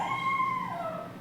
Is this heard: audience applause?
no